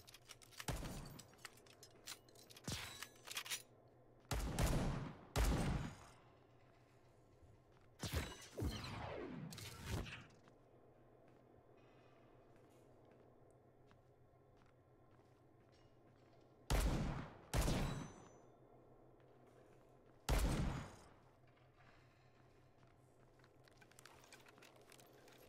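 Gunshots crack out in the video game Bullet Echo, coming in scattered short bursts and single blasts with long quiet gaps and faint clicks between them.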